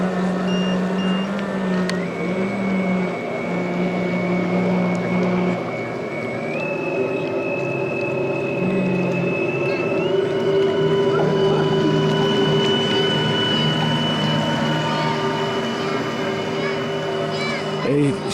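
A 1/7 scale RC Riva Aquarama model boat runs its motor on the water with a steady, continuous whine that holds throughout, close and loud, while people talk over it.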